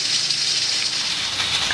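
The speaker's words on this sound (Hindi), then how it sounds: "जब सीटी घूमने लग जाए 3 मिनट टाइम रख लें।" A pressure cooker cooking masoor dal steadily hisses steam from its spinning whistle, a continuous, fairly loud broadband hiss with no talking over it.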